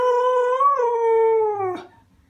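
A pet dog gives one long, loud, close howl that holds a steady pitch with a slight rise, then breaks off into a short rough sound near the end.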